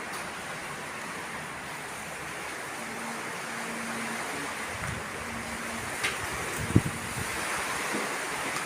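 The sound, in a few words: typhoon wind blowing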